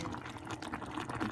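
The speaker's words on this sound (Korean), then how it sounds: "라면 포트에다가 지금 끓이고 있어요. 김치찌개" Kimchi stew bubbles in a mini electric ramen pot, a steady close simmering hiss with soft popping bubbles over a brief moment.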